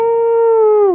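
A dog's sustained howl, a single long, steady, tonal wail held loud and close for about a second, alone without talk.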